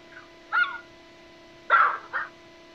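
A dog gives a few distinct barks with pauses between them, heard clearly over a steady electronic hum, with no voices present.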